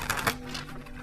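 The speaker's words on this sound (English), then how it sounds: "I'm gonna give it a quick shuffle." Tarot cards shuffled quickly by hand, a brief papery riffle of soft clicks and flutters lasting about a second, close and fairly quiet.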